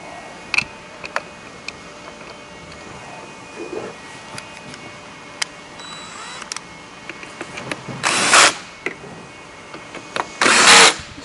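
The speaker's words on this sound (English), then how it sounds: "I can put these bolts back in up here." Bolts being fitted back into a heavy-duty feed module plate, heard as scattered close metallic ticks and clicks with two louder bursts of tool noise near the end.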